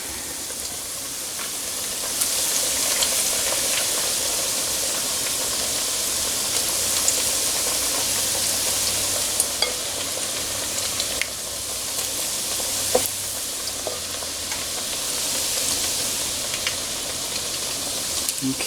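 Chicken pieces for General Tso's chicken fry in hot oil with a steady, dense sizzle that continues through the whole stretch, with occasional small pops and stirring clicks.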